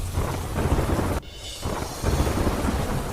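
Heavy monsoon rain pours in a dense, continuous hiss, broken by a deep rolling rumble of thunder that dips briefly before the downpour returns at full strength.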